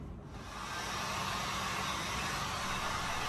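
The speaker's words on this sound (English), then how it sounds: "I'm going to just go over this area with the hot air blower" A hot air blower runs steadily as it heats a repaired, paint-filled panel on a Peugeot 107, a close, even broadband whoosh that settles to a constant level after the first moment.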